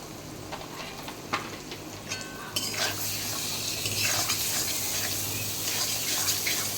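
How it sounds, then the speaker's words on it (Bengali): Spice paste sautéing in a pan for a jackfruit and prawn curry, a steady sizzle with scraping and stirring clicks from a utensil, growing louder and denser partway through, with no voices. "তো মশলাটাকে আমি ভালো করে কষিয়ে নেব।"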